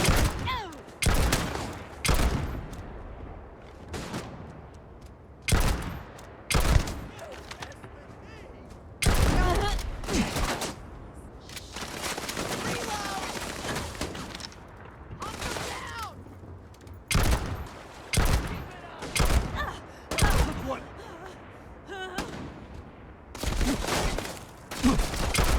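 A firefight in the video game Starfield, with repeated loud bursts of gunfire in rapid volleys separated by short pauses, continuing throughout.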